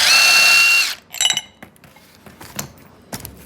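A power tool, likely an impact wrench, runs in one loud steady burst for about a second during a car alternator and power steering bracket install, followed by scattered clanks of tools and parts.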